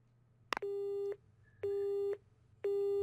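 Telephone busy tone following a hang-up in the Grisaia visual novel: a short click, then three evenly spaced steady beeps, clear and alone.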